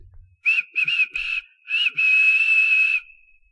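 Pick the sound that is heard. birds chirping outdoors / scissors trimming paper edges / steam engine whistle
steam engine whistle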